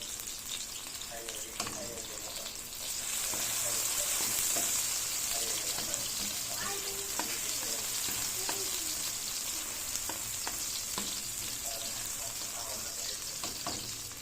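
Aromatics sautéing in hot oil in a pan for ampalaya with eggs, a steady close sizzle and crackle that swells after a few seconds and holds, with a few faint clinks and stirring sounds.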